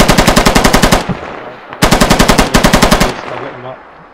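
Machine gun fire in the military shooter game Squad: two loud, close bursts of rapid automatic shots, about a second each, separated by a brief pause and trailing into echo.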